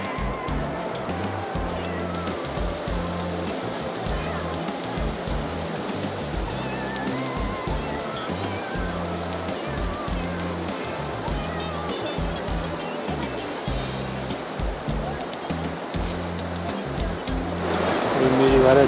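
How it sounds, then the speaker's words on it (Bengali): The strong current of the Rimbi River in West Sikkim near Pelling rushes as a steady, dense roar of water, loud and close throughout and swelling louder at the very end. "শব্দে শুনতেই পাচ্ছ যে কতটা জলের স্রোত"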